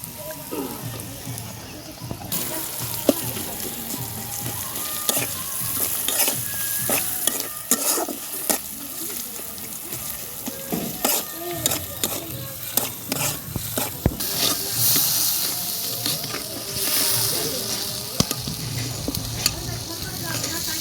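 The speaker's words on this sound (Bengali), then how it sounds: "মশলা ভাজা হয়ে গেছে" Ground spice paste of turmeric and chili fries in a pan for a fish curry, loud sizzling under repeated scraping stirs, with a voice talking over it at times.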